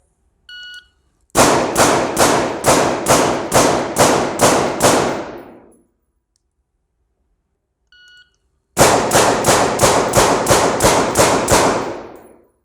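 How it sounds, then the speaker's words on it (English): Gunfire in a close-quarters combat shooting drill, fired at multiple targets: two rapid strings of loud, sharp shots, about nine then eight evenly spaced reports, separated by a pause of silence. "String of 6 shots on 2 targets, 3 plus 3."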